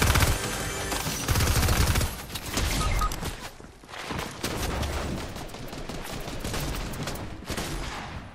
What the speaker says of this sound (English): I'm getting shot at from both sides.